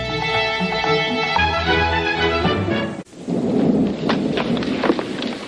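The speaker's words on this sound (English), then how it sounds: "I was just listening to the rain" Steady rain hisses throughout, with a sustained musical tone over it in the first half, then a thud and heavier, rumbling rainfall.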